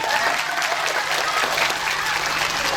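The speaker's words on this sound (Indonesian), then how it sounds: "Tepuk tangan tuh Banser." An audience at a Nahdlatul Ulama religious gathering in Lampung claps steadily for the whole stretch, with dense, even applause that stays fairly loud and close throughout.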